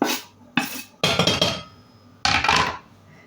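Chopped onion clatters into a metal frying pan in a few quick bursts, with scraping against the pan between louder drops. Close and fairly loud, no talking.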